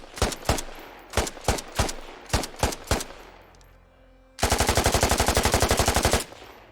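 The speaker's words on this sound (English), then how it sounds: "the modern, brand new AK-12. It has two fire modes, semi-auto and fully automatic, and has a brand new distinctive sound." AK-12 rifle firing in a video game: about a dozen sharp semi-automatic shots in uneven pairs and singles, a short pause, then a loud sustained full-automatic burst of rapid, evenly spaced rounds lasting nearly two seconds.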